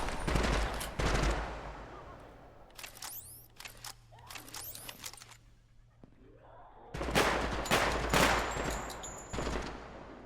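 Video game gunfire from a recoil-free weapon, loud rapid bursts in two long stretches separated by quieter moments with sweeping electronic whooshes, close and punchy.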